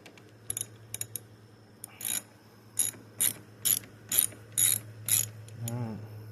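A screw is backed out of the brake master cylinder on a 2009 Honda Recon 250ES ATV with a ratchet, giving about eight close, regular clicking bursts of ratcheting over a steady low hum, with no talking.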